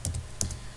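A few light keystrokes on a computer keyboard as a web address is typed into a browser, faint and close over a steady low background hum, with no voices.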